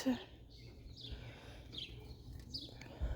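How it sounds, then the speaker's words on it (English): Birds chirping outdoors in the morning, a few short scattered calls at moderate distance over soft background ambience, with a faint voice present. "The birds are chirping."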